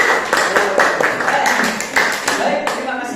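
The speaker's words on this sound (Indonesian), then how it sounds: "untuk semangat lagi kita tepuk tangan dulu" Students in a classroom clap their hands together in a lively, uneven burst of claps that runs steadily throughout, with some talking mixed underneath.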